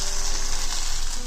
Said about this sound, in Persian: زرشکم من داخل تابه میریزم، با کمی کره تفتش میدم